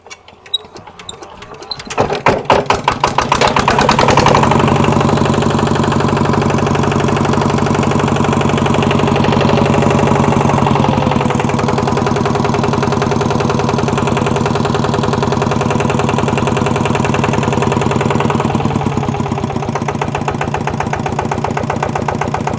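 A small single-cylinder Kubota RT100 diesel engine on a walking tractor starts up and settles into a steady, loud, knocking idle, running continuously nearby without any voices.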